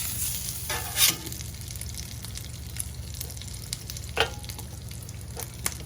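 Bacon frying on a Blackstone 22-inch griddle: a constant close sizzle and crackle with occasional sharper pops and scraping stirs, no voices.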